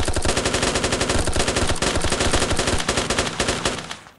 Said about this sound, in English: when you hold the fire button, it shoots